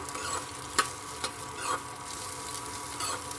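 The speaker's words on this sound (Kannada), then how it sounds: "ಇದಕ್ಕೆ ಸ್ವಲ್ಪ ಜೀರಿಗೆ ಸಹ ಸೇರಿಸ್ಕೊತೀನಿ ಉರಿಯೋದಕ್ಕೆ" Garlic and cumin seeds frying in a pan, a continuous close sizzle with occasional stirring scrapes and small pops over the hiss, no talking.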